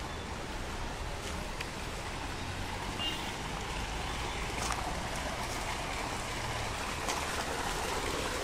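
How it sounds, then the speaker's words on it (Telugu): Water overflowing from a full municipal water tank, a steady outdoor rush of running water heard at moderate distance, faint and continuous with no talk. "ఇక్కడ ట్యాంకి నిండి రోజు వాటర్ ఇలాగే వేస్ట్ అవుతుంది."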